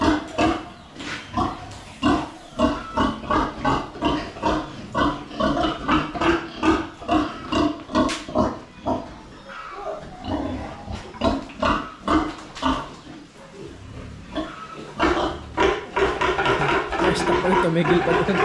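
Pig grunts and snorts from a farm sow being coaxed, a rapid run of close, loud, rhythmic grunts that pause midway and then resume, with a person talking over them.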